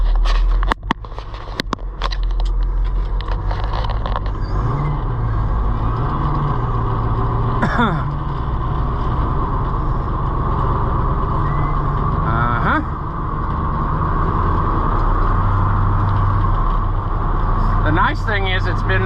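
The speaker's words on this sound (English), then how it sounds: "let's fire up the old Detroit here." An old Detroit diesel engine on a harvest truck idles steadily after starting, a loud low rumble with rattles and clanks filling the whole stretch, close to the microphone.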